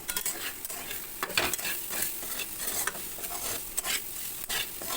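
Dal sizzling and frying in a pan, a steady close crackle with bursts of stirring scrapes throughout, no talk.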